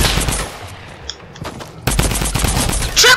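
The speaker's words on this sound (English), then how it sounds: "Oh god, people are shooting." Sustained rapid automatic gunfire in a video game battle, loud and dense, briefly easing before a heavier burst of overlapping shots resumes, with no speech over it.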